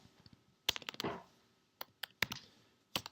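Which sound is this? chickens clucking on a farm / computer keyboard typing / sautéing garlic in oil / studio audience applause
computer keyboard typing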